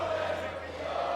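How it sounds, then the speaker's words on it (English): Crowd noise at the Brawl Stars World Finals esports event, a steady, broad roar of cheering spectators that fills the hall continuously without pause. "If you can hear it behind me, the crowd is starting to go wild."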